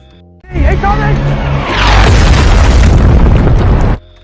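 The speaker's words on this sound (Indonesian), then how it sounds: "alangkah sialnya Bishop dan Sugar pun terkena RPG yang terjadi" A loud RPG blast from a war film rips through after a brief burst of dialogue-like sound, a heavy boom swelling into a long, dense roar of debris and rumble that holds for about two seconds before cutting off.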